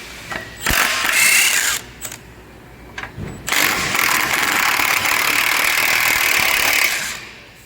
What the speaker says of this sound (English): I'll show you by just taking all the bolts, pop the oil pan off